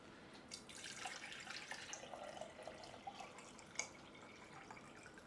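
Water, 32 ounces of it, pours steadily into a stein, a continuous splashing, trickling flow lasting several seconds, fairly close but quiet, with no talking over it.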